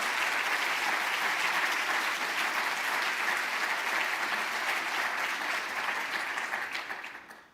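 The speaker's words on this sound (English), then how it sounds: "I would like to ask you for applause for Peter" A conference hall audience at a data protection summit applauds Peter Hastings, steady dense clapping held for several seconds before tapering off at the end.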